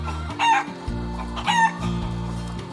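Chickens at a chicken coop cluck and crow in a close, busy mix, with two brighter bursts standing out over a steady low murmur of fowl and no talking.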